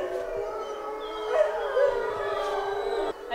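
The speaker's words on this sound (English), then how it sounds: "Just listen to that, guys. They're all howling." Several wolf dogs at a sanctuary howl together in long, wavering tones, a layered chorus that sustains steadily with no talking.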